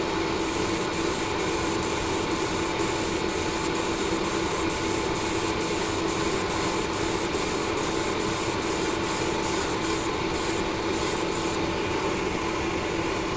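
An airbrush sprays Vallejo surface primer onto a model, producing a continuous loud hiss throughout, with a faint rapid ticking above it.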